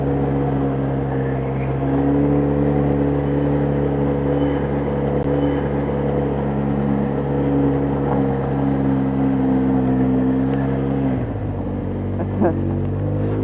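An ATV engine drones steadily while riding Phinney Mountain Road in Annapolis County, Nova Scotia, a loud, close, humming tone under wind noise that holds even and then drops lower in pitch near the end.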